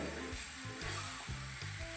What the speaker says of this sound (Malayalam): അപ്പോൾ ഒന്നുകൂടെ ഇളക്കി കൊടുക്കാം.